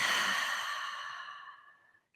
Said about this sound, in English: take just a big, deep breath in through your nose and exhale from your mouth